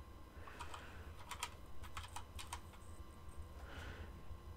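Quick, faint clicks from a computer keyboard, a short burst of keystrokes in a few clustered runs, light and close over a steady background hum.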